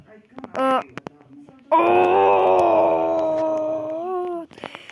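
A dog lets out a short yelp, then a long, loud, wavering howl lasting almost three seconds that slowly falls in pitch and ends abruptly, heard up close.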